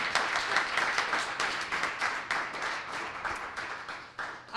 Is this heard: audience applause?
yes